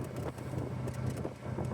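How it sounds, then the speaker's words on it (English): Wind rushes past an open roadster driving in the rain, a soft, steady, broadband roar with faint low road rumble beneath it and no talking. "It's windy. We're wandering all over the road."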